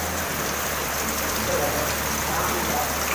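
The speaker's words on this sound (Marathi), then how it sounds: "आता पाऊस बघा पुन्हा, म्हणजे जोर वाढलाय पावसाचा" Heavy rain pours steadily in a dense, unbroken hiss of drops hitting surfaces all around, with no pauses across the short stretch.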